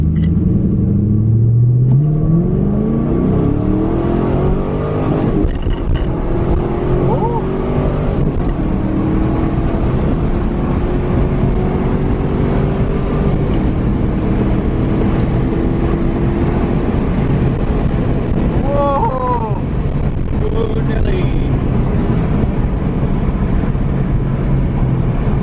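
A stock LS1 Firebird pulls in third gear from low RPM, its engine rumbling loud and close as the pitch climbs steadily, with a deep, heavy drone that carries on throughout and no talking over it.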